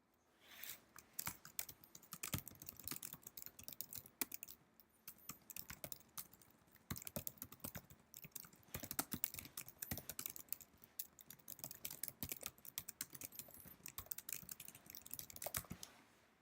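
Keys pressed on a computer keyboard under macOS, in steady quiet clicking and tapping with irregular rhythm, close and alone with no talking.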